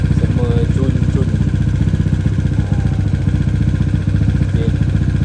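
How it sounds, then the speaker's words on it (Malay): A Yamaha LC135 motorcycle engine idles close up after being rebuilt, its steady mid-pitched putter loud and continuous with a light mechanical clatter throughout. "Motor pun dah hidup."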